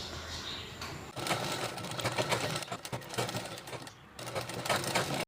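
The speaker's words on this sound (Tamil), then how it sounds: "பாருங்கள் இப்போ இது 2ஐயும் நம்ம சேர்த்து தைச்சிட்டோம்." A sewing machine rattles in fast, steady stitching bursts as it joins two chudidhar pocket pieces, with brief pauses between runs and a faint voice at moments.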